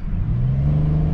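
Chevy Impala LTZ engine revving, a loud, close mid-pitched drone whose pitch climbs steadily as the engine speeds up over about a second, no talking.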